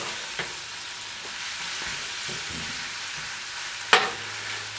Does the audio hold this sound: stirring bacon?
yes